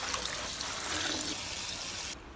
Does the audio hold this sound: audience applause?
no